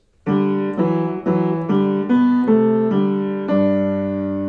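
A sustained keyboard-like instrument plays a slow sequence of held chords from a Bach canon (BWV 1087), a bass line with its inversion, each new note entering with a soft attack over a steady bass.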